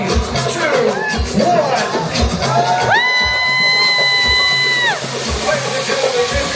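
A crowd at a white party on Stella Island screams and cheers loudly in a sustained roar with whoops, while a loud voice cries out over it near the middle.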